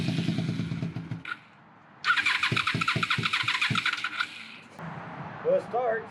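A 2000 Honda Magna 750 motorcycle with a suspected carburetor fault is cranked and catches, its engine firing in uneven pulses before settling into a rough run, with someone talking before the start.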